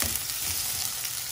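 Food frying in a pan while being stirred for golden browning, a short, steady close sizzle with a faint low rumble beneath.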